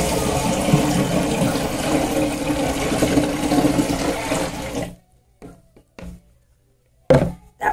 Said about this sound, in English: We are now going to pour a bucket of water on top of Shelly.